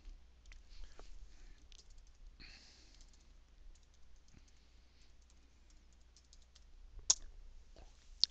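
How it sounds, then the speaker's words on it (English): Keys tapped on a computer keyboard while entering a web address, a quiet run of irregular clicks with a couple of sharper taps near the end. "I typed it into the address line"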